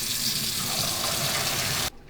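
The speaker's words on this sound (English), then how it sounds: "make sure to leave it run cold water on the sink" Cold water running hard from a kitchen sink tap while pasta is drained, a steady rushing gush that cuts off abruptly near the end.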